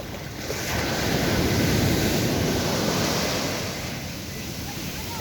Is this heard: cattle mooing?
no